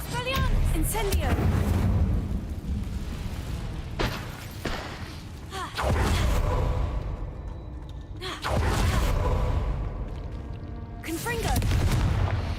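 An Incendio fire spell cast in the video game Hogwarts Legacy, heard as a few loud, booming bursts with whooshing roars spaced several seconds apart, mixed with other battle sounds and voice-like calls.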